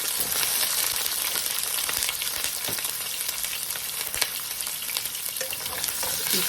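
Garlic and onion frying in a pan, a dense, steady crackling sizzle heard up close throughout, with faint stirring clicks and no talking.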